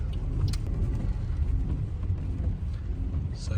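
Steady rumble of car traffic at the Eurotunnel terminal, a continuous low road and engine roar close by with no clear individual pass-bys.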